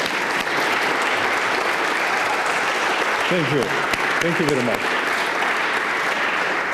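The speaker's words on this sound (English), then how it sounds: "Can we clap for him?" An audience at a lecture-series event applauds a guest, sustained even clapping throughout, while someone speaks briefly over it partway through.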